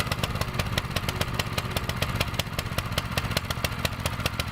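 A WEN 56035 plate compactor's small engine runs steadily just after its first start, throttle set around the middle, with a fast, even pulsing chug throughout and no voices.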